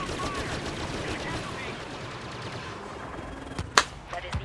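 Blaster fire in Star Wars Battlefront (2015), a battle at Dune Sea Exchange: rapid bursts of distant shots crackle under game noise, ending with a couple of sharp, louder blasts near the end.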